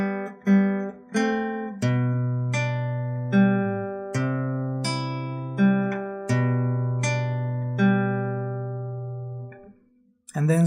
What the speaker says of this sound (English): So the 4 bars sound like this.